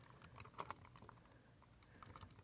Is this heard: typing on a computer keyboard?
yes